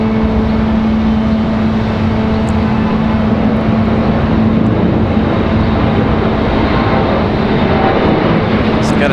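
An Embraer E175 regional jet on Delta Connection service moves at Raleigh-Durham International Airport with a loud, constant engine roar and a steady droning hum throughout.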